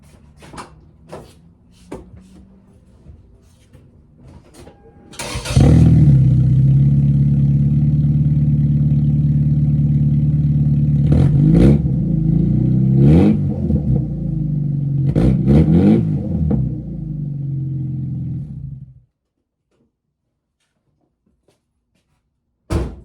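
After a few clicks and knocks, a Toyota Celica engine fires up and runs loud and deep through the exhaust, revving twice to about 3,000 RPM before cutting off abruptly into silence.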